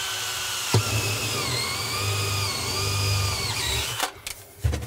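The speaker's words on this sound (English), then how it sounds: "before you drill a hole in a floor" A power drill whines steadily at close range for about four seconds, drilling through a floor while installing a dishwasher, pitch dipping slightly under load, then stops with a few clunks.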